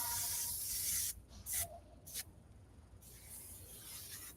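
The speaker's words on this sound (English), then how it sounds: "one last spray for those new curls on this side." Hair spray hisses onto freshly styled curls in a few bursts: one long spray, two quick short puffs, then another sustained spray, all close and breathy.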